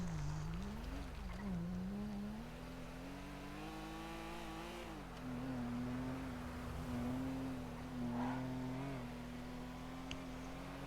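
A video game car revs hard and speeds away, its engine tone climbing and holding in a loud, steady drone that dips and rises with gear changes, with no talking over it.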